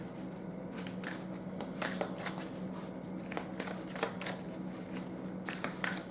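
Doreen Virtue oracle cards being shuffled by hand, a steady run of crisp papery riffles and slaps with sharper flicks every second or so, close and fairly quiet with no voices.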